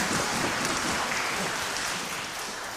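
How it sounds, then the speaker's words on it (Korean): Audience applause in a concert hall at a Korean-Chinese symphony orchestra's regular concert, a dense steady wash of clapping that fills the whole stretch and eases slightly toward the end. "박수 부탁드겠습니다"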